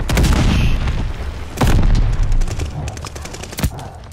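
BAR rifle fire in the Call of Duty Vanguard video game, rapid bursts of loud, close gunshots with booming explosions mixed in, dense and continuous, with a player's voice speaking faintly underneath.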